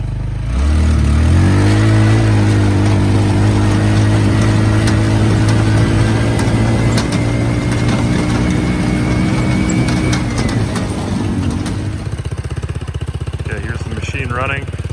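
A Tomberlin Crossfire 150r buggy engine cranks and catches almost at once, then runs at a loud, steady idle close by before the tone drops off near the end.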